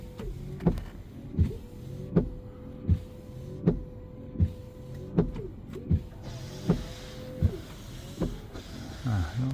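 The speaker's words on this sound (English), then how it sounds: "But I hear at least the pump going this time." A 2022 Kia Niro EV windshield washer fluid pump runs, giving a steady motor hum punctuated by regular, close thumps about every three-quarters of a second, with no voices.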